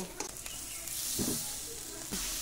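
Fried lote fish jhurjhuri with chopped coriander being stirred in a pan, a soft sizzle with a few scraping strokes, quiet and close.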